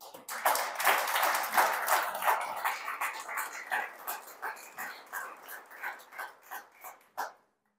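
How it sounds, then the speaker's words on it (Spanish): A church congregation applauds during a sermon: dense clapping at first, thinning into slower, rhythmic claps before stopping abruptly. "Dele otro aplauso si lo cree."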